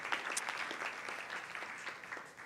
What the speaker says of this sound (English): One more round of applause for Jalyn and SWANEE and Kelly